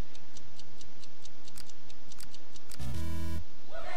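Wires on a bomb are snipped in the Bomb Corp video game, giving a steady series of light ticking clicks followed by a loud, bright electronic tone sequence near the end, with no talking.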